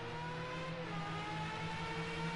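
Race cars circulating on the Laguna Seca circuit, a steady engine drone with tonal whine holding at moderate distance, rising slightly toward the end without any voices.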